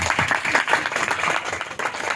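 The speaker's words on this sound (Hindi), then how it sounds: "जोरदार ताली बजाकर खुदा के नाम की" A congregation at a Christian worship service claps loudly and vigorously in praise, a thick, fluttering burst of many hands close to the microphone.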